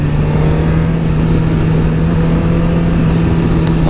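Motorcycle climbing a winding scenic road: a loud, close, steady engine drone with a constant pitch that holds evenly throughout, with no talking.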